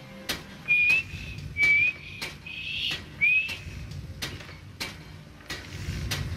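A person whistles a few short, thin rising notes, broken by pauses, with soft clicks and ticks in a quiet room, during a modded Skyrim game.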